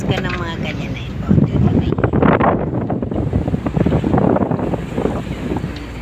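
A yacht at open sea on the crossing from Puerto to Batangas, with strong wind buffeting the microphone and a steady rush of water and waves, loud and continuous throughout.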